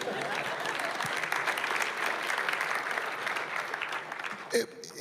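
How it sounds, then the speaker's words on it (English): An audience at an innovator-of-the-year business event claps in steady, dense applause throughout, moderately distant and even, with a brief louder thump near the end. "that's worthy of applause"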